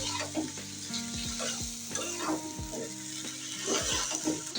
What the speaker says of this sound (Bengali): লতিগুলো এখন আমি ভালো করে কষিয়ে নিচ্ছি।